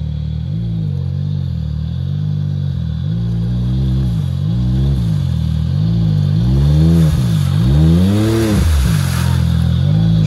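A Can-Am Maverick X3 side-by-side engine revs repeatedly, its loud, close roar climbing and dropping in several throttle bursts that swell higher and harder toward the end, with a light clatter underneath.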